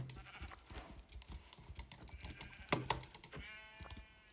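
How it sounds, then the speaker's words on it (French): Sheep bleat as they are killed in a survival video game, with short cries breaking through steady, close keyboard clatter and mouse clicks. "Je vais tuer quelques moutons déjà."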